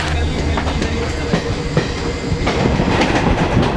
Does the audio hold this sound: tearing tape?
no